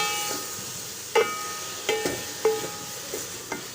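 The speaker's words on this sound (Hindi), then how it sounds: "पालक ऐड कर दिया मैंने। अभी इसको अच्छी तरह से मिला लेते हैं" Spinach and potatoes with spices being stirred in a pan over a soft steady sizzle, broken by a few sharp utensil clinks against the pan.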